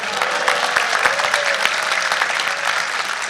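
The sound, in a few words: audience applause at a summit at sea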